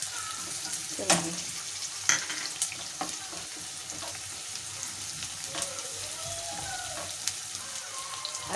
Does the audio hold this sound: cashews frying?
yes